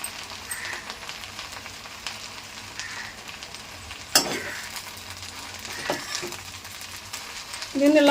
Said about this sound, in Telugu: గోంగూర అయితే వేసేస్తున్నానండి నూనెలో